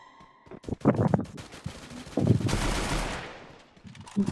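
Rapid automatic gunfire in the mobile shooter game Free Fire, bursts of close shots followed by a longer rushing blast that fades.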